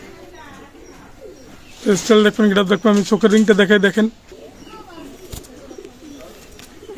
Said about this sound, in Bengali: চমৎকার টেডি কবুতর চমৎকার চমৎকার স্টাইলের কবুতর